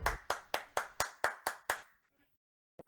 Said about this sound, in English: Let's give a big up round of applause for the Mounties Gaming.